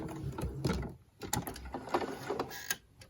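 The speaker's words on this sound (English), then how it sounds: "And we're going to sew all the way down." A sewing machine runs in bursts while stitching down the mitered corner of a fabric table runner, its close mechanical whirring starting and stopping over about three seconds.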